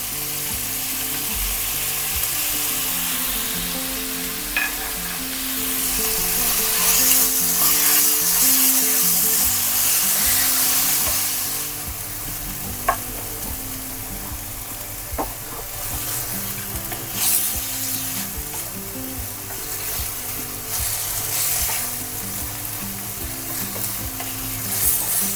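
Chicken bun filling with green onion stir-fried in a pan, a steady loud sizzle with repeated scraping and clanking of the spatula throughout, no voices.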